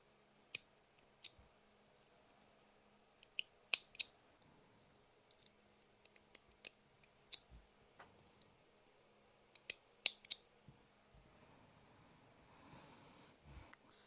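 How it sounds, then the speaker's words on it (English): Sharp scissors cut through T-shirt fabric in quiet, scattered snips and clicks, spaced irregularly, close and soft, with faint rustling of cloth toward the end. "you're probably using pretty sharp scissors to do this"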